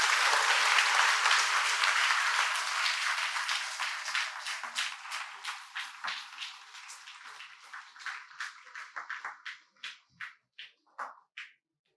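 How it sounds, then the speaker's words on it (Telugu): An audience applauding at a Sai Baba temple, dense clapping that starts loud and full, then thins steadily into scattered separate claps before stopping. "ఒక్కసారి మళ్ళీ చప్పట్లు కొడదాం"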